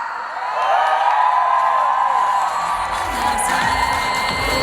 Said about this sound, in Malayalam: ആദ്യം നമുക്ക് നമ്മുടെ ഒരു കിടിലം കൈയടി കൊടുക്കാം